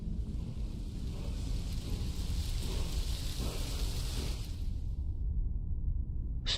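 A thunderstorm summoned by the Storm Call shout in Skyrim, heard as a dense, continuous rumbling roar with wind-like noise that fades out near the end.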